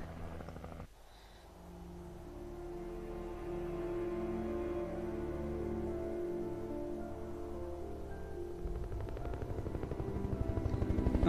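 A helicopter in the Alan Wake video game drones steadily with a low rotor hum and engine whine, building slightly louder toward the end after a sharp start, with no speech.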